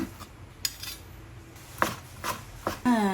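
Knife slicing boiled, fried, tender liver and gizzard lengthwise on a board for dinakdakan, a few sharp separate cuts and taps with quiet pauses, close and fairly soft.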